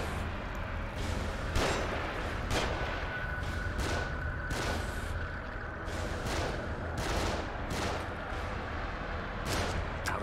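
Enemy gunfire in The Evil Within, a rapid series of sharp gunshots and bursts repeating irregularly over ten seconds, loud and close against a noisy combat background.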